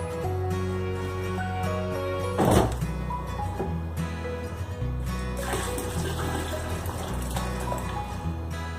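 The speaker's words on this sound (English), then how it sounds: "the next step is to add your melted Zote soap" Melted Zote soap poured into a bucket of hot water, a liquid pour and splash with a louder gush near the start, set against steady background music.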